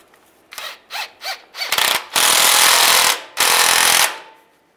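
A power impact tool tightens a bolt under a 2007-2013 Chevy Silverado during rear main seal replacement: several short rattling bursts, then two long loud hammering runs, close up with no talk.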